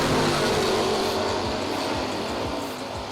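A 1985 Buick Somerset race car runs at a racing event, its engine a loud, rough roar with repeated passing sweeps and the hum of other cars around it.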